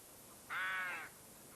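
A single rook caws once, a harsh drawn-out call lasting about half a second, fairly close and clear over a quiet outdoor background.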